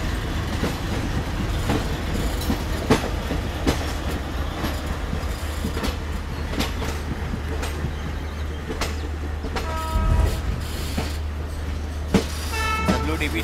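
An Indian Railways train with its locomotive rumbles steadily at a station or yard, with rhythmic wheel clacks over rail joints and faint horn toots near the end, and some voices in the background.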